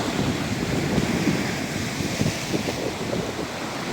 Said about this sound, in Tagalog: Malakas pa po yung alon.